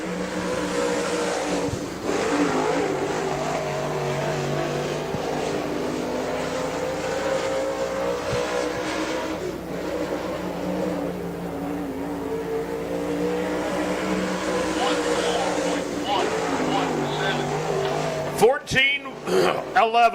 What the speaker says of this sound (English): Next car out to qualify.